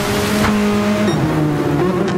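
Race car in Gran Turismo 7 during a Suzuka East race, a loud engine drone with shifting pitch as it revs and slows under heavy braking, close and continuous with no talk.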